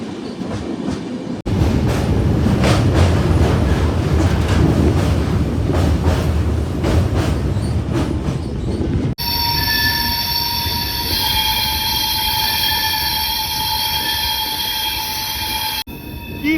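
The Kanchankanya Express train rolls loudly with rumbling wheels, then a steady high-pitched metallic squeal takes over as the wheels grind against the rails on a curve.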